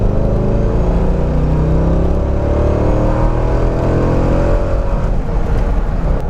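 A Corvette C5 Z06 engine on its stock exhaust revs hard through the gears to about 5,500 RPM, its loud, rising roar climbing steadily in pitch before easing off near the end.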